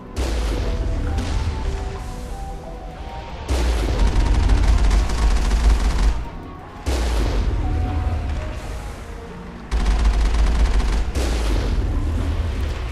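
Heavy weapon fire pounds from big guns in Mass Effect, a dense, loud, continuous barrage of booming blasts in long bursts with brief dips between volleys.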